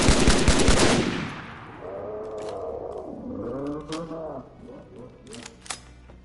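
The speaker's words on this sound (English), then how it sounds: "I just keep popping my head out the window with the battle rifle, dropping one elite here and there" A loud burst of battle rifle fire opens the Arma Reforger Halo Firefight mod scene, then decays as a voice talks over scattered sharp clicks and game effects.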